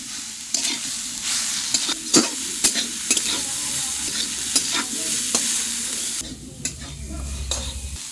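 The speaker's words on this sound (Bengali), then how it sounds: "শাক ভাজা হয়ে গেছে।" Leafy greens, seasoned with black cumin, garlic and cumin, fry in a pan with a steady close sizzle broken by sharp clacks and scrapes of stirring, some heavier knocks toward the end.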